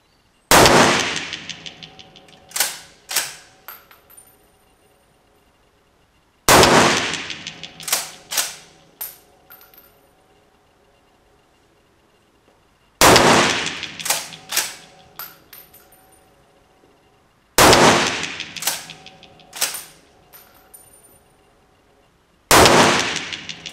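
A Schmidt Rubin 1911 rifle fired at an outdoor range with a 50-metre target: five loud, sharp shots spaced about five seconds apart, each followed by a long rolling echo that fades out.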